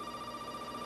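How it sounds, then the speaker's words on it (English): A telephone rings in the Resident Evil video game, a steady electronic ringing tone that holds at an even level from start to finish without any voices over it. "The phone is ringing."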